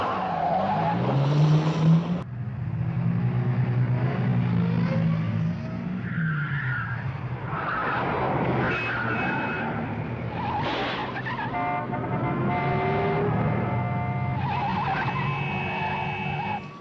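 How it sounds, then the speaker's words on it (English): Motor car pulling away from an airport control tower, tires squealing and skidding as the engine revs and shifts through rising and falling whines, loud and sustained for the whole stretch. "He's just leaving the control tower in a motor car."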